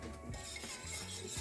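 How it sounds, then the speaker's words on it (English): Homemade spicy barbecue sauce is whisked in a crock pot, with soft scraping and light clinking against the pot for a brief moment, quiet and close. "Give that a whisk together."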